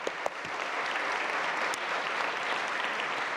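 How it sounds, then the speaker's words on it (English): An audience at a UNESCO award ceremony applauds a string trio, a dense, even wash of many hands clapping at moderate loudness throughout, with no talk. "A round of warm applause will be appreciated."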